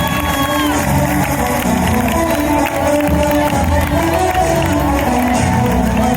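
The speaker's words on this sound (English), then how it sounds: "Give a big round of applause." Large crowd at a school annual sports day roars, cheers and claps at a prize announcement, a loud, dense, continuous wash of noise with voices mixed in.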